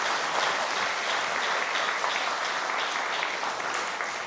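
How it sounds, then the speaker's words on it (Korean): An audience at a Korean independence-activist award ceremony applauds, a steady wash of many hands clapping continuously from start to finish. "다시 한번 이 네 분께 숭고한 박수 한번 보내주시면 고맙겠습니다"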